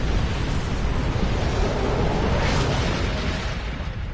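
A planet killer blows up in Star Trek Online with a loud, sustained roaring blast, a dense wall of rumble that holds for several seconds and fades slightly at the end.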